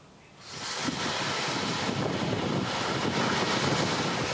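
A strong whirlwind gust sweeps through the Bengkong district of Batam, a steady, roaring broadband rush that swells in quickly and stays loud throughout.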